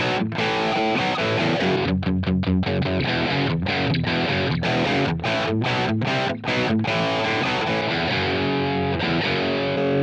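Heavily distorted electric guitar chugs and rings through a GX100 amp simulator tone, with rhythmic palm-muted stops and sustained chords, no voices.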